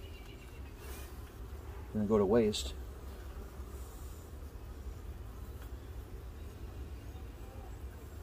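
Honey bees buzzing around an open hive while honey supers are added, a steady hum in the background with a person speaking briefly close by.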